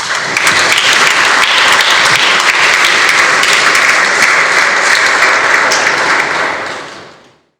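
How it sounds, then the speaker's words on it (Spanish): Loud, dense audience applause after the introduction of a lecture on the Cristeros of Santiago Bayacora, a full sustained roar of clapping that holds for about six seconds before fading out. "Le damos un fuerte aplauso"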